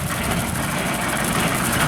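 A tractor engine with a governor on its RPM runs steadily while powering a Woods 15 ft brush hog cutting a golf course, a constant low rumbling drone with slight vibration, no talk.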